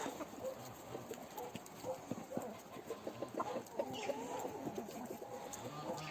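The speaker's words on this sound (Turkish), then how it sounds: "Bu taraf kümes, tekiler. Eski anaç tavuklarım." Old brooding hens in a coop cluck softly in scattered bursts amid other farmyard birds, with light shuffling and pecking noises around them.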